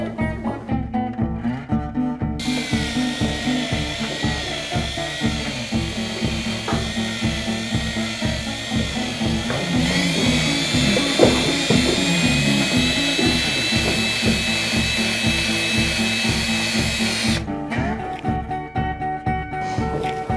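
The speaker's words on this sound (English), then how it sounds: "We attach the drill" A power drill spins a Henderson castration tool in a long, loud, continuous whir whose pitch shifts and rises midway, then eases near the end.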